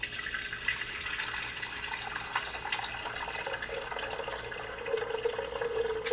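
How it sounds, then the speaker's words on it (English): Reverse osmosis water pours steadily for tea, a continuous soft rushing trickle that brightens slightly in pitch near the end as the vessel fills, with no talking. "So let's add our reverse osmosis water in."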